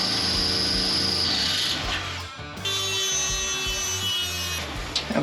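A non-carbide rotary burr grinds at close range to enlarge a hole for a Foxbody brake hard line, giving a loud, rough, continuous grating with a brief dip partway through.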